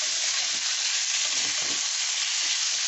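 Red chillies and chopped garlic frying in oil for chicken bharta, a steady close hiss of sizzling with soft stirring scrapes underneath, no voices.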